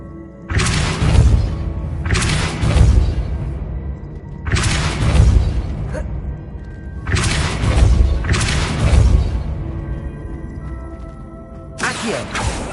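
Repeated heavy booming blasts of the Depulso spell in Hogwarts Legacy, five loud thumping bursts with rumbling low end and crashing debris, each lasting about a second, spaced a couple of seconds apart with no talking.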